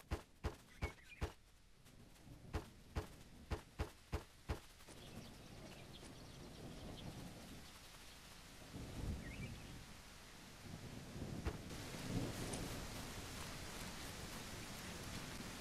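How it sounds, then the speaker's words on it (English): Video game rain falls on a surface with faint rumbles of thunder, a quiet steady patter that swells in the second half, preceded by a series of sharp evenly spaced clicks at the start. "Oh, it's raining."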